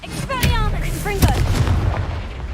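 A Confringo explosion spell from the game Hogwarts Legacy bursts in a couple of sharp booming hits amid dense battle noise, with a short voice-like chirp mixed in.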